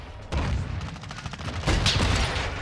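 Rapid bursts of automatic gunfire in a video game, dense and loud volleys of friendly fire that run almost continuously, close and without talking.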